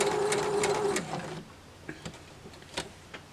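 A sewing machine runs straight stitches on quilting fabric in a loud, steady whir for about a second and a half, then stops, leaving a few faint clicks.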